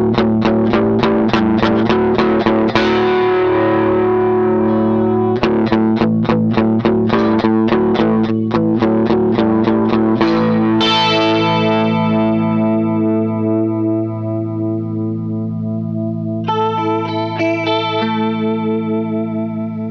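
An electric guitar runs through a Danelectro Food Series modulation pedal with slow speed ramping, strummed chords and sustained notes swirling with a wobbling chorus-like effect that gradually speeds up, loud and alone without speech.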